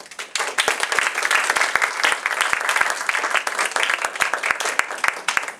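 An audience at an improv summer showcase claps steadily after a performance, a loud, dense wash of applause lasting several seconds with no talk.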